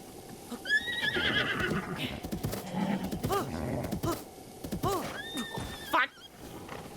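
Horses in Zelda: Breath of the Wild whinny and snort repeatedly, with two clear neighs and hoof clopping over a steady game ambience.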